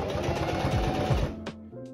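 A sewing machine stitches bias tape onto a fabric bag, a fast, steady mechanical whirring and rattling run up close that stops abruptly, followed by a brief click.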